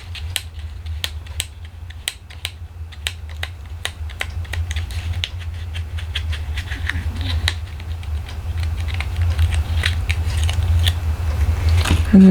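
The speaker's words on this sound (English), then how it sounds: "take the tearing tape off of here" Tearing tape peels off a handmade ornament in a quick run of crisp ticks and crackles that grow denser and louder as it goes, with no talking.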